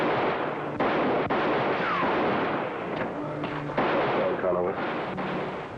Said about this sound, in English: Keep firing, Toro.